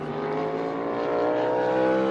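A NASCAR Cup Series race car roars steadily during practice at Daytona, a loud, sustained engine note with no clear distinct pops standing out.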